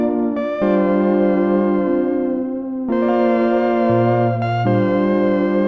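A synth preset with vibrato and reverb switched on plays sustained, harmonically rich tones that step between a few pitches, loud and continuous with a wavering shimmer and no voices.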